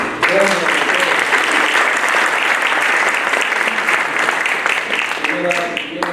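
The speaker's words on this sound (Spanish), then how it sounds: "Saludamos la presencia con un fuerte aplauso" A large audience at a panel discussion applauds loudly and steadily for several seconds, with a voice speaking briefly at the start and again as the clapping fades.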